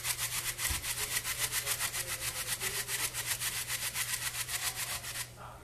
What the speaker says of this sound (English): So I'm going to grate a little bit more in here.